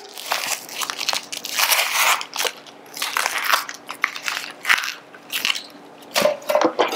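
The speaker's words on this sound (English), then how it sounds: "we are going to cut the ends off of our onion" An onion has its ends cut off and its papery outer skin peeled away, making irregular close crackling and crunching bursts separated by short quiet gaps.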